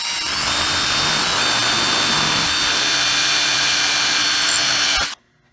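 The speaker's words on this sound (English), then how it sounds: "Now we can drill our bigger hole." A power drill whines loudly and continuously as it bores a larger hole through an air nozzle for about five seconds, then cuts off abruptly.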